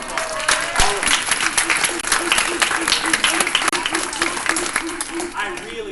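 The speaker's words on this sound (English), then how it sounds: "Give yourself a round of applause." Audience applause fills a Smithsonian event hall where a NASA astronaut is speaking, steady dense clapping from a large crowd of students and guests lasting throughout, with faint voices mixed in beneath it.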